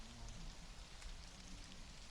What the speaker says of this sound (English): This rain is going to increase the growth speed of the crops.